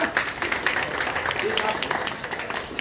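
Audience applause at a public gathering, a steady wash of many hands clapping at moderate loudness, heard in a short stretch throughout.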